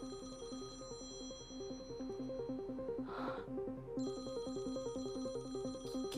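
A telephone rings with a repeating electronic melodic ringtone pattern, close and steady, with a brief breathy noise partway through and no talk.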